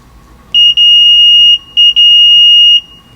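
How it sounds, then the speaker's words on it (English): A multimeter sounds its continuity beep while testing a phone's power button contacts, giving a loud steady high-pitched tone in two longer bursts, each broken by brief dropouts. "The multimeter beeps"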